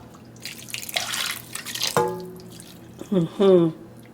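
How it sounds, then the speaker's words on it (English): Water splashes and trickles into a cooking pot in short bursts, close by, while making Igbo Ofe Owerri soup, followed by a few brief hollow metallic clinks. "let me add small water"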